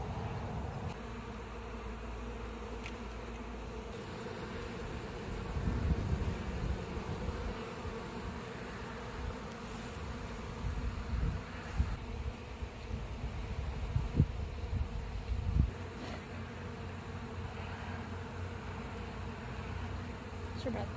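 A swarm of honeybees buzzes in a dense, continuous drone, moderately faint and steady, swelling slightly at times, with no speech over it.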